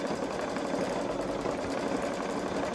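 A Babylock Solaris embroidery sewing machine stitches an in-the-hoop design at a steady rapid hum and needle rhythm, continuous and fairly close, with no talking.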